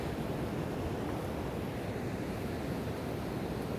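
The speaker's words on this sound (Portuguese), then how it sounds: "As ondas chegando." Ocean waves roll onto the beach at Ilha Comprida, a continuous close wash of surf and foam with a wind-buffeted rumble, steady throughout with no voices.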